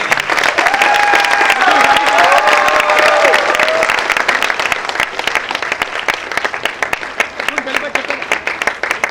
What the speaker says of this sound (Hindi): अपनी जोरदार ताड़ियों साथे